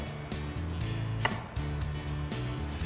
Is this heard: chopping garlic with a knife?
yes